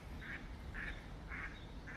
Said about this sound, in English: Those are the wild ducks that live out the back here.